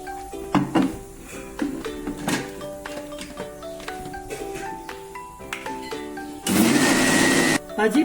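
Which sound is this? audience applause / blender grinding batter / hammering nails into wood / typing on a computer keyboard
blender grinding batter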